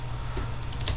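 Someone types quickly on a new computer keyboard, a rapid run of close, crisp key clicks over a constant low background hum.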